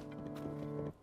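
Horse hooves and a horse's snorting whinny from the video game Zelda: Tears of the Kingdom, a brief tonal burst close up that cuts off quickly.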